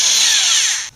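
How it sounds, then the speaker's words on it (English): A power tool loosens a wheel bearing bolt on a Chevy Cavalier's front wheel. It gives a brief, loud, high whine for about a second before cutting off abruptly. "take this impact and take the bolt out"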